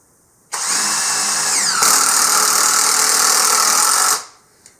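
A Hyper Tough 20V brushless impact driver drives a decking screw in one loud, close, continuous whirring run of about four seconds, its pitch shifting partway through before it spins down to silence.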